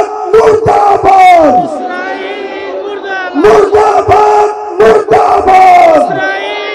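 A crowd at a political rally chants slogans in loud call-and-response bursts, with massed voices swelling together in repeated waves and short pauses between the rhythmic shouts.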